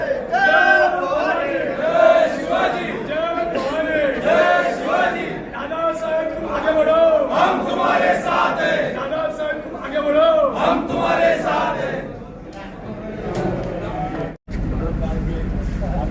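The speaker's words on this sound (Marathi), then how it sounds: "विजयाचा जल्लोष" A Shiv Sena crowd in Malegaon celebrates a municipal election win, with dense, continuous shouting and chanting from many voices close by and loud throughout, and a brief cut near the end.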